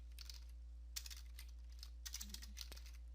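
Keys clack on a computer keyboard as a copy command is entered on a Windows 10 PC, a few scattered quiet taps followed by a short burst of clicks, with no voices.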